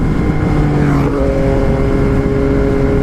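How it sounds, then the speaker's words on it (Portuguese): BMW motorcycles passing by on a road, a steady loud engine drone with a pitch shift as one bike goes past, heard from the roadside with no talk. "Olha as BM passando aí. BMW, uma, duas."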